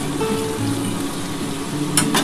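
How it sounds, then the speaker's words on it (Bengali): Water poured into a pan of potatoes cooking for white aloo posto, a Bengali potato-poppy-seed dish, gives a steady close sizzle and bubbling with a brief brighter splash near the end. "আমি এবার একটুখানি জল দিয়ে দিচ্ছি।"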